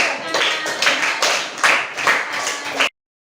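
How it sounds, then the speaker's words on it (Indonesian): A small classroom group claws out a brief round of applause for a team, close and crisp, with uneven bursts of clapping that swell and dip for about three seconds before stopping abruptly into silence. "Ya, kita kasih tepuk tangan."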